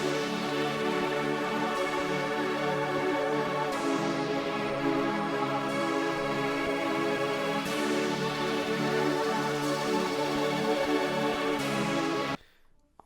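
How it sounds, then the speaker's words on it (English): Dense layered synthesizers play together in a full, loud electronic build with rhythmic pulses and sweeping tones throughout, then cut off abruptly near the end. "by the end, I'm playing all the synthesizers all at once"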